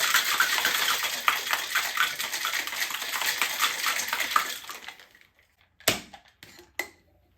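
Ice rattling hard inside a cocktail shaker tin for about five seconds in a fast, steady rhythm. A few sharp clacks and knocks follow as the shaking stops.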